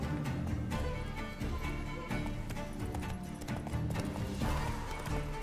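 Horse hooves clip-clop at a gallop in The Witcher 3: Wild Hunt, a steady loud rhythm with game music underneath and a brief whinny.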